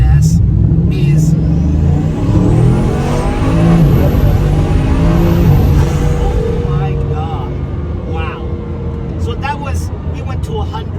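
A Bugatti Chiron Pur Sport pulls hard from inside the cabin, its engine a loud, steady roar climbing through the gears with a constant rumble and no break, while talk runs over it.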